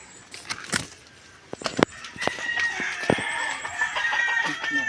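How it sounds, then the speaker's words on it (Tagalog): A rooster crows and chickens cluck nearby on a rural path beside a hut, with scattered sharp clucks building into a sustained crow over faint background noise. "Ang ganda ng boses ng manok."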